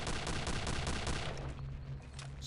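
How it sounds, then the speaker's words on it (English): Gunfire from a paratroop rifle in Return to Castle Wolfenstein bursts out as a rapid, loud run of shots, then thins into scattered reports and in-game noise. "let's get our paratroop rifle out again"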